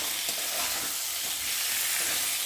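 Spices sauté with fried potato and eggplant in a pan, making an even, dense hiss of sizzling oil that stays steady and fairly soft throughout, with no talking.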